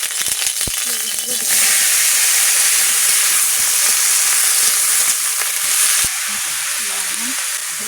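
Steady loud sizzle of food frying in a pan during home cooking of a simple raw potato curry with shol fish, continuous hiss running throughout with a brief stir partway.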